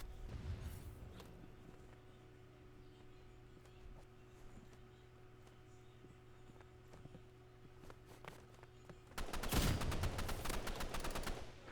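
Rapid gunfire and an RPG rocket blast in Roblox CSGO, faint scattered shots and footsteps over a low hum, then a loud close burst of fire and explosion near the end.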